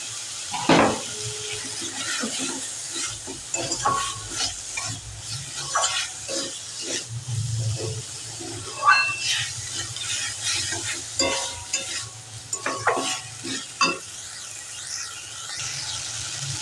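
Cut potato pieces fry in hot spiced oil for a winter-night meal, a steady close sizzle broken by scraping stirs and occasional clinks of the utensil against the pan, with no talking.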